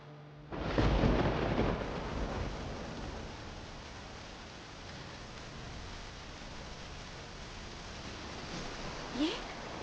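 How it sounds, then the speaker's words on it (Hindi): A loud crack of thunder booms suddenly and rumbles away, then steady rain hisses on for several seconds, with a faint short sound near the end. "ये बारिश है ना?"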